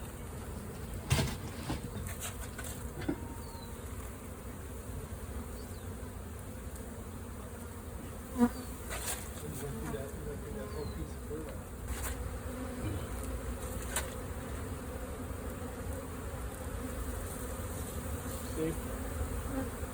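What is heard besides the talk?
large bee swarm buzzing during capture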